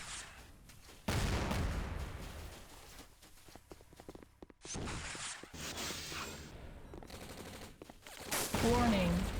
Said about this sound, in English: they got Minion artillery just coming at us